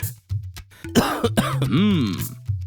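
A cartoon character with a cold coughs in a clinic, a string of several rough, throaty coughs and throat-clearing bursts, close and dry, with a strained vocal wheeze in the middle.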